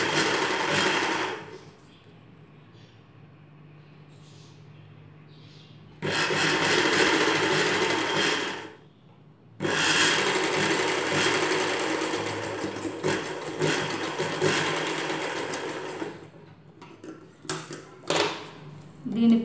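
A sewing machine stitches lace onto the folded edge of a ghagra in three loud, close runs separated by pauses. Fabric handling and small clatters follow at the end.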